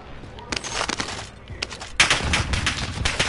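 Enemy gunfire in a first-person shooter game crackles in quick automatic bursts, a lighter spray first and then a louder, closer volley.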